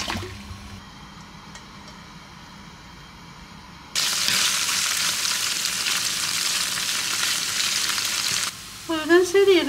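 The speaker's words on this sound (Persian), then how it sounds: "خلال پرتقالم 3 بار گذاشتم جوشید، الان دیگه میخوام بذارم سرخ میشه." Strips of boiled orange peel hit hot oil in a pan for jeweled rice, bursting into a loud, steady sizzle and crackle after a quieter lead-in, with a brief stir or clink near the end.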